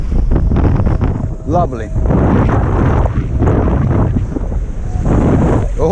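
Waves slap and surge around a small boat, with strong wind buffeting the microphone in continuous rushing gusts; a voice speaks briefly over the noise.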